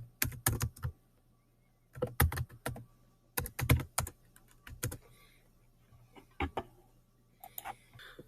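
Keys on a computer keyboard clatter in short bursts of rapid taps with brief pauses between, close and fairly quiet while a spreadsheet sheet is renamed; no one speaks.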